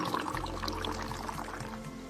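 Liquid poured steadily into a container, a continuous splashing trickle at moderate level lasting the whole moment, with no voices over it.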